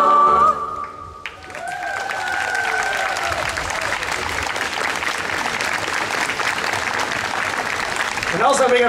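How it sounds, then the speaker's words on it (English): A crowd at a Nordic-Baltic song festival bursts into sustained applause after a Lithuanian choir finishes, a loud, dense roar of clapping that follows a brief sung ending and continues unbroken. "applause for this song about a squirrel and dreams."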